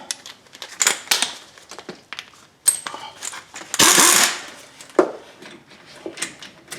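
Brake caliper slide pin bolts on a 2011 Toyota Sienna being loosened and removed with a 14 mm tool: scattered metallic clicks, clanks and ratcheting bursts, close and fairly loud, with one longer rasping stretch in the middle.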